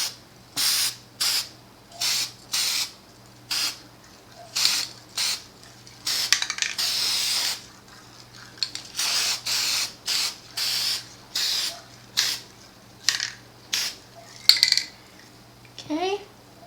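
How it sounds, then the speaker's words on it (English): Short repeated bursts of aerosol spray as mason jars get coated indoors with black chalkboard paint, about a dozen hissing sprays with brief pauses between, close and fairly loud, a can rattle between some bursts. "we are going to give these a quick coat with black chalkboard paint"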